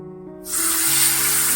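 A sudden loud sizzle bursts out as hot tempering oil with asafoetida and turmeric is poured over raw mango and onion chutney, hissing steadily after a low humming start.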